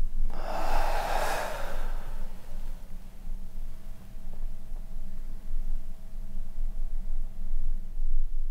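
A person draws one long, deep breath and lets it out in a single breathy rush near the start, inside a reputedly haunted house. A steady low room hum and faint noise continue afterward.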